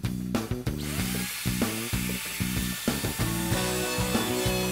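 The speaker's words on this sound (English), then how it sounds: "hog out the majority of the cavity with the Forstner bits" A power drill with Forstner bits hogs out a guitar control cavity in wood through a template, cutting in loud, close bursts that repeatedly drop and restart.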